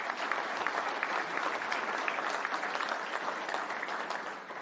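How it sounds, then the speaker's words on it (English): A crowd at an innovation awards evening claps loudly and continuously, a thick, even wash of applause that carries on throughout without letting up. "Let us give them a massive round of applause."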